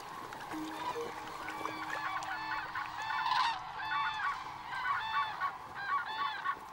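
A large flock of cranes calls continuously at a Baltic Sea resting place in a national park, overlapping trumpeting cries rising and falling at moderate distance with no talk.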